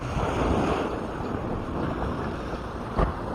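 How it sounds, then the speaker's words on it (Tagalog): Steady rush of surf and wind across the whole clip, with a brief louder slosh near the end; no voices. Rising tide with moderate waves under dark, cloudy monsoon-season skies. "At medyo may alon"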